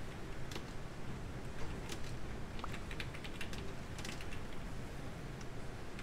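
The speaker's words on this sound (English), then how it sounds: "I was typing also" Faint, rapid computer keyboard typing clatters steadily under a constant background hiss during an online game session, distant and quiet with no talk.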